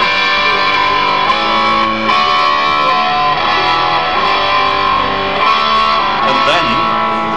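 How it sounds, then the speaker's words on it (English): Heavily distorted electric guitar through a Kemper Profiling Amp on a modern boutique distortion tone, playing sustained chords with shifting notes, loud and saturated throughout. "Or make it pretty modern boutique like."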